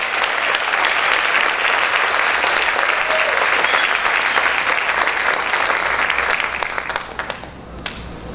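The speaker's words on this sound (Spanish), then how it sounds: "Ese aplauso es para el Señor, déselo con más fuerza, con más ganas." Church congregation applauding during a worship service, a loud, dense and sustained wash of clapping that holds steady for several seconds before tapering off near the end.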